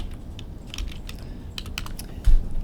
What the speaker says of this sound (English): I'll type something.